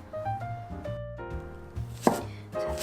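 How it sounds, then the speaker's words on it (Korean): A knife cuts food diagonally on a cutting board while making beef-bone broth rice cake soup, with a couple of sharp chopping knocks near the end under louder background music. "어슷어슷하게 썰어줄게요"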